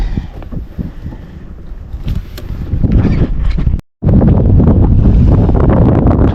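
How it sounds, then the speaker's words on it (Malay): Strong west wind rising at sea during a fishing trip on a boat, loud rushing gusts and buffeting across the whole stretch with boat and water noise underneath, briefly cutting out for a moment before returning just as loud. "Ini udah mulai pecah angin. Udah angin barat."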